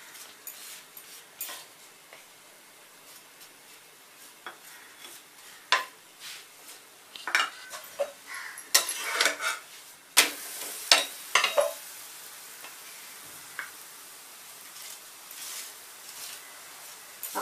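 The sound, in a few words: tilgul poli roasting with ghee on a pan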